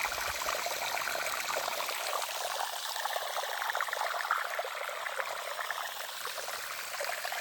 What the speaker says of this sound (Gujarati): ત્યાંથી ડાટો કાઢી નાખ્યો, એનાથી પાણી જાય